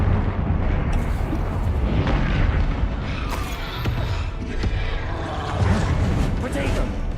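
Fire spell casts in Hogwarts Legacy combat, loud dense bursts and rumbling blasts layered with other busy game effects, continuous through the whole stretch.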